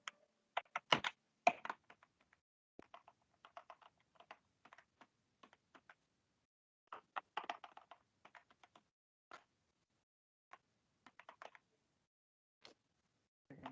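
An email address is typed on a computer keyboard in quick bursts of crisp key clicks, separated by short pauses and a few lone taps, close and quiet with no voices.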